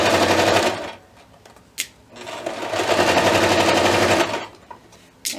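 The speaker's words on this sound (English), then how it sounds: "we're just sewing along the bottom edge" A sewing machine stitches along the bottom edge of a costume robe in rapid mechanical bursts, stopping and starting between runs with short pauses and light clicks.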